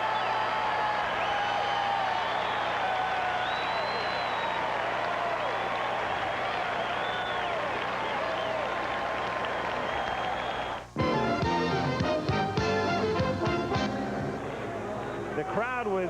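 A packed stadium crowd at Game 7 of the 1985 World Series between the Kansas City Royals and St. Louis Cardinals sings loudly and continuously, a dense massed roar of voices, before organ music takes over.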